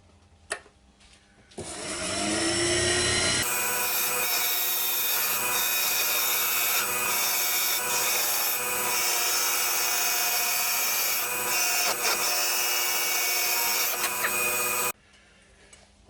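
Wood turning on a lathe, a tool taking light, fine cuts as the piece gets thinner: a steady continuous rasping, scraping hiss runs close and loud for about thirteen seconds, then stops abruptly.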